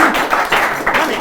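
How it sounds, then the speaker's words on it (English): Students and guests at a live celebration of a national science and maths quiz win clap in bursts, the sound loud and close, with a few clustered pulses of applause. "Round of applause for that."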